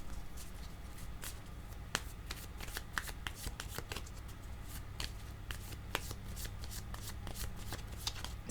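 Tarot cards are shuffled close up in a steady stream of soft riffling rustles broken by crisp snaps and taps, with no talking.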